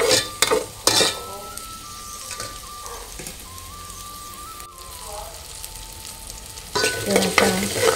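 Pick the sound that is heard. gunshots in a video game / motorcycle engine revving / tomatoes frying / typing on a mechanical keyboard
tomatoes frying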